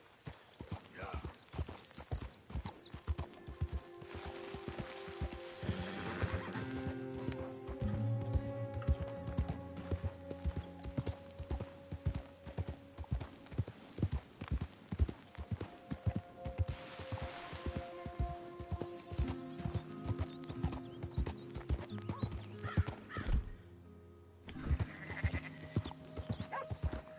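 Horse hooves clip-clop steadily on the ground in Red Dead Redemption 2, a rhythmic run of close hoofbeats over game music, with a whinny and a voice talking now and then.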